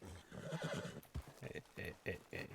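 A horse in a role-play video game whinnies and snorts close by, with clip-clopping hooves mixed in and someone talking over parts of it.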